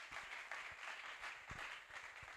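A church congregation applauding during a worship service, steady broadband clapping with a few sharper claps, continuous and fairly quiet throughout.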